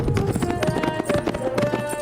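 Several horses' hooves clatter steadily in a dense, continuous rhythm in a tense scene in a rocky gorge ambush, with voices and background commotion mixed in throughout.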